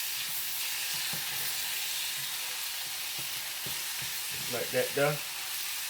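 Chicken pasta sauce sizzles in a pot while being stirred, a loud continuous hiss with soft scraping strokes throughout, and someone briefly speaks near the end.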